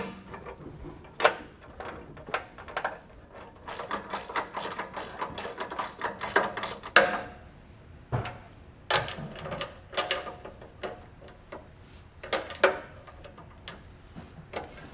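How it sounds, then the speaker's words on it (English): Ratchet wrench tightening the bolts on an RV entry-step handrail, a quick series of close clicking bursts separated by short pauses, with clanks of metal between strokes and no talking. "I'll come back and tighten them down with my ratchet."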